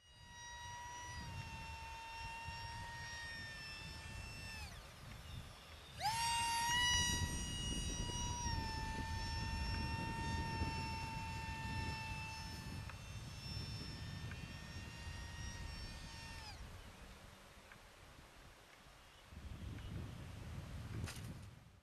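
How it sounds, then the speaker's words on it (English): A Great Planes Micro F-86 EDF ducted fan jet flies overhead, its high, steady whine rising and falling in pitch with a sharp surge midway, then fading out over light outdoor wind rumble. "It's a ducted fan, so it needs some speed."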